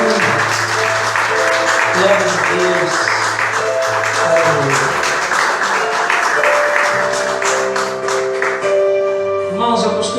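A church congregation applauding during a service, steady clapping mixed with voices and sustained organ or keyboard tones, with someone speaking over it.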